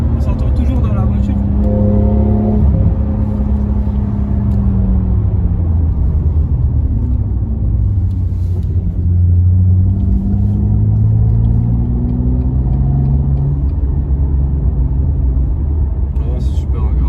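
A BMW M2 engine rumbles loudly and continuously from inside the car while driving, its deep drone rising and falling in pitch as the revs change.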